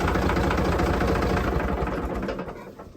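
A 58-year-old tractor's engine idles close by with a rough, chugging knock, then starts to wind down and fade over the final second.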